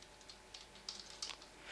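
Fingers type on a computer keyboard, a few quiet, close key clicks in short irregular bursts over a faint steady background hiss.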